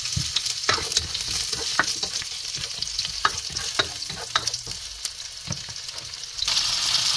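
Garlic cloves and onion sauté in a pan with a loud continuous sizzle and frequent spatula scrapes and taps, the frying swelling louder near the end, close and without talk.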